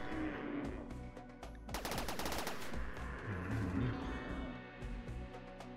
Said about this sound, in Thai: ยิงแบบรัว